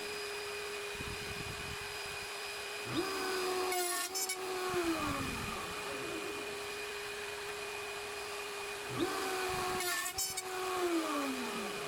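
Router on a router table whines steadily while it cuts box joints using an Enjoywood jig, with two louder passes as the bit bites into the wood and then winds down; no talking.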